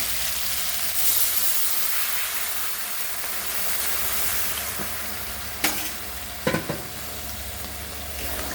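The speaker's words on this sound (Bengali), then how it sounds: "এর মধ্যে এখন আমি একটু জল দিয়ে দেবো" Water splashed into a hot pan of egg omelette and potato curry, a steady close sizzle and hiss with a few sharp bursts and clatters near the end.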